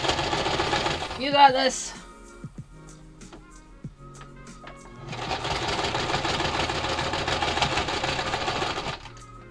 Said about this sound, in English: The sewing machine is such a trooper and I love it.